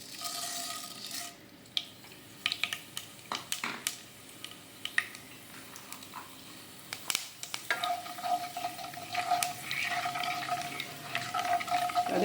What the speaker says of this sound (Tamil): எண்ணெய் நல்லா காஞ்சிட்டு இப்போ கடுகு வெந்தயத்தை நம்ம ஆட் பண்ணிக்கும்